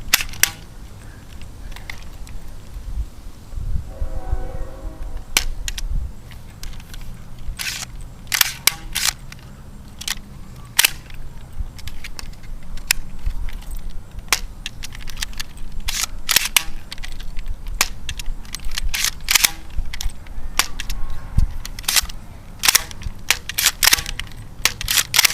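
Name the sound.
Nerf Rebelle Fair Fortune blaster being fired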